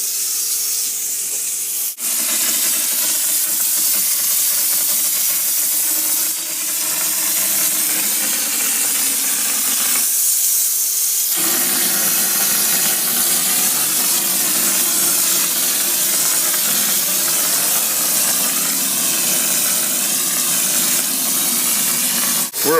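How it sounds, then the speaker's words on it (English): Melasticoat texture waterproofing coating is sprayed in a loud, steady hiss that runs almost without a break, with a couple of short pauses, close by and with no talking. "We're applying the coating that goes over the Melasticoat. It's Melasticoat texture"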